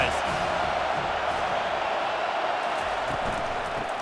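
Steady roar of a stadium crowd at an Arizona Wildcats vs. Utah Utes college football game, a dense, continuous wash of noise holding level throughout with a commentator talking over it.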